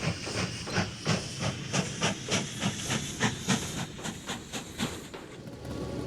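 A steam locomotive in a railway-building game chuffs and hisses in steady rhythmic bursts, loud and close, with roughly a dozen evenly spaced puffs of steam and no talking.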